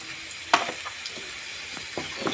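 Onions and turmeric powder fry in oil in a pan for chicken curry, giving a steady soft sizzle with a few sharper spatters and stirring scrapes, close by and with no talking.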